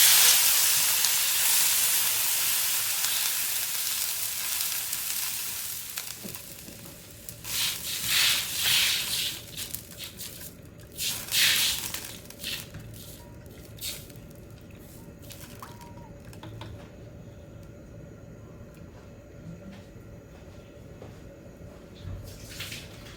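Cold water pours into a hot pot of stir-fried pickled cabbage for potato soup, opening with a loud hissing rush of steam that fades, then sloshing pours and bubbling drips, close with no talk.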